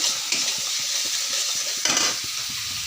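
Fish curry with turmeric and salt is stirred in a hot pan, the dried chondana fish cooking with potato and eggplant, a bright steady sizzle under quick rhythmic scraping strokes of a spatula, with no talk.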